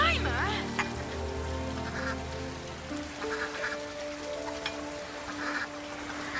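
Cartoon ducks in The World of Peter Rabbit quacking and honking in a lively flurry, with squeaky, wavering calls over a busy musical background.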